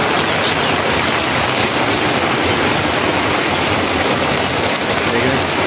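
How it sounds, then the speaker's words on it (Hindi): Rainwater pours hard into a bird shed during a storm, a loud, dense, unbroken wash of falling water and spatter that fills the whole clip. "यहाँ से भी पानी गिर रहा है।"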